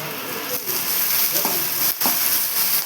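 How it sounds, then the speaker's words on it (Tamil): Broad beans and green chili sizzle in hot oil in a pan, a steady close frying hiss broken by a couple of short dips where the mix is stirred. "நல்லா பொன்னரமாக வதக்கலாம். பச்சை மிளகாய் போடுவேன்."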